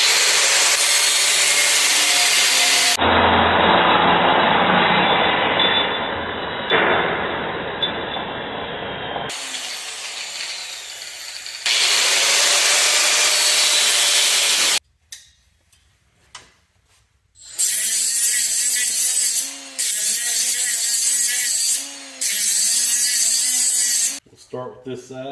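A car firewall panel being cut with a power tool, loud bursts of harsh grinding and cutting in several separate passes broken by sudden gaps and near-silence.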